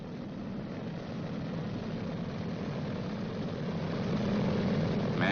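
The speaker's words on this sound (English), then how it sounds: "Go through the same procedure on all the other engines, one at a time." A Boeing B-29 Superfortress piston engine running steadily during a ground run-up check, a loud, continuous droning roar that holds level throughout and swells slightly toward the end, with no talk over it.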